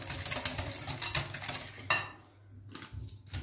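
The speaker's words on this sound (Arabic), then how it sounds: "باش نحرك مليح" A genoise cake batter of sugar and other ingredients is stirred in a bowl, a utensil scraping and clinking against the sides in quick, steady strokes, close and fairly loud, pausing briefly before resuming.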